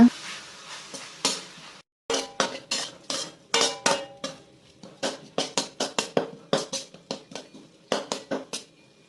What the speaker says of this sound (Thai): ตั้งกระทะใส่น้ำมันใส่พริกลงไปเลยนะคะ แล้วก็ผัดให้มันกลิ่นฉุนๆก่อนนะคะ